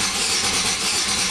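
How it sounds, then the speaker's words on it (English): A '97 Buick 3100 V6 cranking over with its ignition control module disabled, a steady, loud, unbroken churning drone lasting a moment with no catch or firing. "crank the vehicle over"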